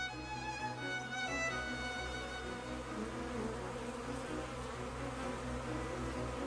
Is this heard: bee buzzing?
yes